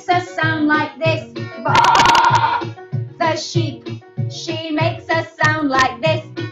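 A voice imitating a little white sheep's bleat in a children's song about Grandpa's farm, a loud, wavering baa standing out in the middle of sung phrases, with singing before and after it.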